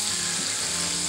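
Homemade chicken strips fry in a pan with a steady, dense sizzle. The crackle is close and even throughout, with no talk over it.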